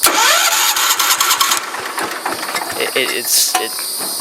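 A Ford LGT 125 lawn tractor engine cranks and catches, then runs with a loud, uneven mid-pitched rumble and hiss, heard up close.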